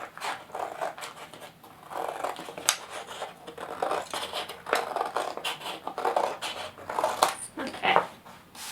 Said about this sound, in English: Now then I'm going to cut on that line.